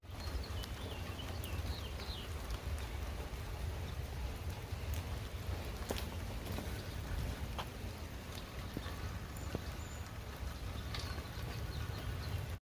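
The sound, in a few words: rain falling outside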